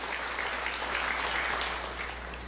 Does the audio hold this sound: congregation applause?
yes